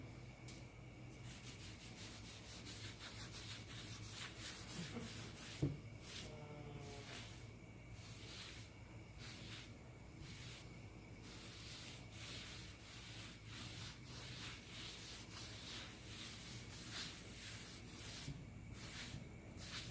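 A finish coat is rubbed by hand into a cedar cutting board, a faint soft rhythmic rubbing and scuffing with a single sharp knock partway through.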